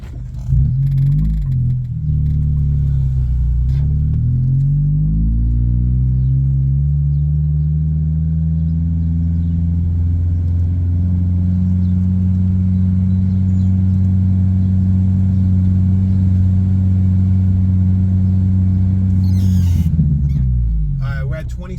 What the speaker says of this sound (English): I'm traveling about 9 miles an hour, coasting on second gear.